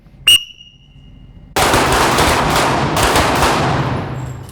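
Handgun fire during a shooting class: one sharp shot, a short pause, then a long dense burst of rapid shots, loud and close with no talk.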